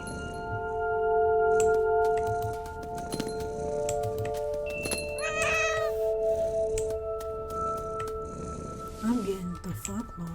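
A cat meowing in the video game What Remains of Edith Finch, several close meows over soft game ambience and scattered clinks, with people talking throughout.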